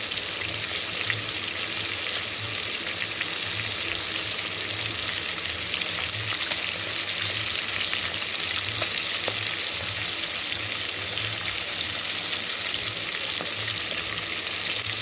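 Continuous loud sizzling and crackling of chital fish frying in hot oil, steady throughout with scattered pops and a faint low hum beneath.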